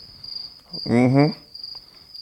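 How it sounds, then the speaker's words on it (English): Crickets chirp on a quiet night as a steady high-pitched trill, with a voice briefly speaking over it in the middle. "I can hear crickets chirping."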